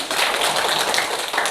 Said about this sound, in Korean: 응원의 박수 한번 주세요.